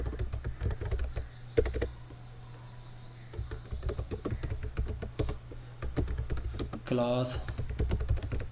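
Computer keyboard keys tapped in quick irregular bursts while coding a C++ program, soft close clicks under someone talking in Hindi, with a short faint chirpy tone near the end.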